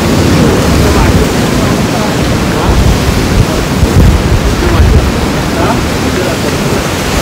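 Sea waves on the Konkan coast wash in continuously as a loud, broad surf roar with gusty wind buffeting the microphone, close and steady with no talking.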